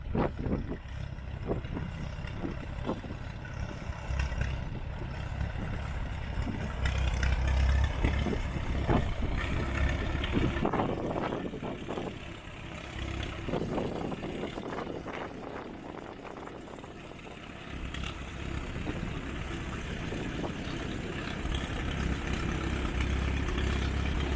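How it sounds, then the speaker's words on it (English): A used tractor runs at a steady idle, its low engine rumble continuous and fairly close throughout, with no talking. "pretty good running tractor"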